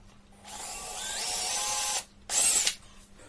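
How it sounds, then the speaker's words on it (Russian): Electric drill with a wood bit boring into a laminate floor joint made of fibreboard, two close bursts of whirring, a longer run followed by a short one, with quiet gaps around them. "Поэтому стоит все-таки использовать сверло по дереву."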